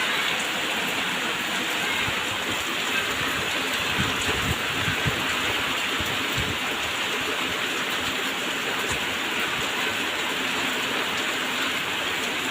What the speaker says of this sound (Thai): ฝนตกจวดจวด